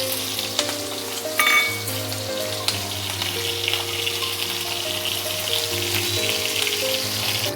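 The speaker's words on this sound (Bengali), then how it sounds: "পেঁয়াজগুলো আমি এর মধ্যে দিয়ে দেব" Chopped onions hiss and crackle in hot oil in a pan, with a bright burst of sizzling as they go in, then a steady fry with some clinks; no talking.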